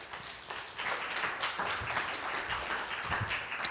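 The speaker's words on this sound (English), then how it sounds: "Why don't you give him a warm round of applause as he comes." An audience at an evening wellness workshop on anxiety claps to welcome a speaker to the front, giving a soft, fairly distant round of applause that swells briefly and then stays even.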